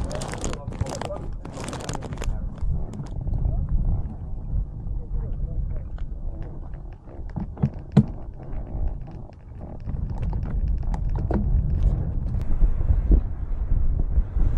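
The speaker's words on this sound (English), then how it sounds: "It's quite windy again." Low, rumbling wind buffets the microphone in the Atlas Mountains, gusting unevenly with a few sharp rustles and knocks mixed in, loud in the lows and fairly continuous.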